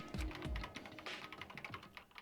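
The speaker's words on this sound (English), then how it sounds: "Joko began typing, the words appearing as fast as I could read them" Rapid computer keyboard typing in the video game Danganronpa: Trigger Happy Havoc, a quiet, brisk clatter of keystrokes heard alone.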